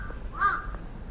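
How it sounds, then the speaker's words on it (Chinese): A single crow caw rings out in the horror video game Tsugunohi, one short, harsh call rising over a quiet, low background hum. "我不知道为什么被那乌鸦声吓到。"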